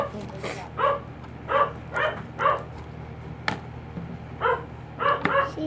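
A dog barks outdoors as someone passes by, a series of short sharp barks in irregular bursts at moderate distance, with a quiet hum underneath.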